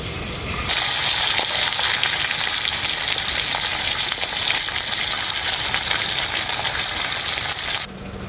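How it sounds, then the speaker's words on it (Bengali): Marinated khoira fish sizzle and spit steadily in hot mustard oil, a loud continuous crackling fry that holds for several seconds before dropping away at the end. "মাছটার এক পিঠটা ভাজা হয়ে গেছে আর এক পিঠটা পাল্টে নেব"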